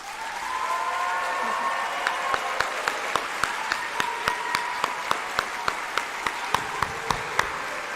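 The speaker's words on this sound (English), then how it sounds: "I'd like all of us to give them one more round of applause." Steady applause from a large crowd at a nursing white coat ceremony, dense clapping that carries on throughout, with a few sharper individual claps standing out near the end.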